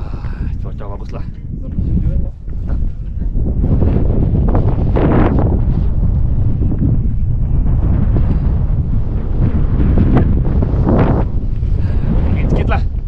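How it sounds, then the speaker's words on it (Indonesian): Wind gusting across the upper slopes of Mount Kinabalu near the summit, a loud, steady roar that buffets the microphone almost continuously, dipping briefly once before surging back. "Angin sedikit lah. Angin."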